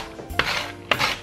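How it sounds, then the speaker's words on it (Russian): Two sharp cuts as an onion is diced into cubes on a vegetable slicer, each a quick clack of the mechanism against the board, close and isolated with no talk. "Лук я буду нарезать на своем любимом станке,"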